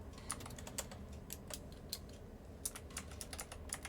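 Rapid, uneven clicks of fingers typing on a computer keyboard, close and fairly quiet, with short bursts of keystrokes separated by brief pauses.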